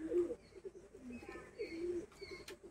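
Pigeons coo softly in a loft, with a few low, rolling calls repeating close by in a quiet space and a faint chirp near the end.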